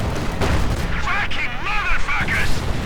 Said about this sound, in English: T-70 being fired at by the Panzer IV